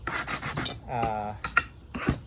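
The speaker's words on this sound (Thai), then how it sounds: "เวลาเราใช้เลื่อยเลื่อยลงไปเนี่ย" Hand saw rasping through wood in a few short strokes, close by, with scraping and rubbing noises between them.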